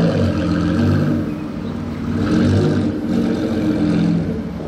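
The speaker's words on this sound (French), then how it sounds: "Le moteur peut pas plus s'exprimer que sur cette voiture." Aston Martin GT12 with red carbon bodywork, its engine and exhaust droning steadily and loudly with a deep low rumble that swells slightly midway, heard close up without any talk.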